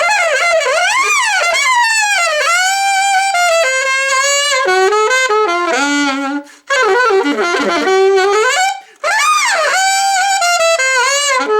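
Saxophone overtones leap rapidly up and down across the harmonic series in a wild, high-energy run, bright and close, with two brief gaps in otherwise continuous playing.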